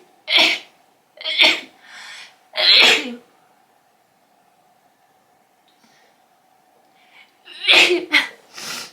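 Three sharp sneezes in quick succession from someone with bad hay fever, then a quiet pause with a faint steady hum, followed by another burst of two or three sneezes close to the microphone.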